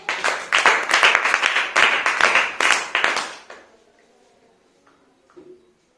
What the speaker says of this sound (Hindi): छठवें के लिए भी इनके लिए ताली बजाइए